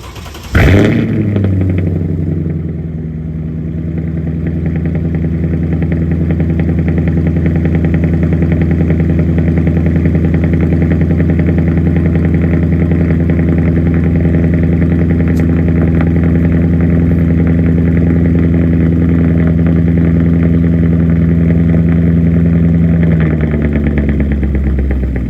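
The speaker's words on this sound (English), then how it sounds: "I'll give you guys a cold start here." A cold start of the V8 in a Mercedes CLK500: a loud crank and catch, then a steady, smooth idle that holds for over twenty seconds before settling slightly lower near the end.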